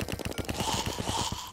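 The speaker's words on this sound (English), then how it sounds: "So, shooting all of these bullets doesn't really bother me that much." Gun in the video game Terraria spraying bullets in a rapid, steady stream of sharp close shots, each one distinct, with a continuous background tone behind them.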